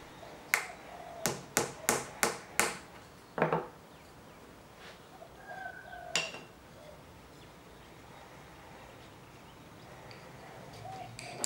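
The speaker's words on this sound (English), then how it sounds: "gently tap the nail until it's fully inserted" A small nail being gently tapped into a wooden kumiko mitre joint for a shoji lattice: a quick series of about six light, sharp taps, then a few scattered ones, close and fairly quiet, followed by near silence.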